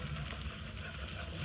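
Beaten egg fries in a hot pan, a brief, dense, continuous sizzle close by and fairly quiet, without pops or speech.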